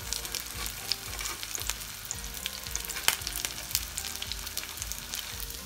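Egg-coated chicken cutlets fry in a hot pan with a steady, close sizzle and crackle, broken by a few sharper pops, and no voices.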